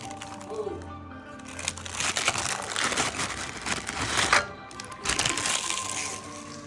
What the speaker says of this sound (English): crush graham crackers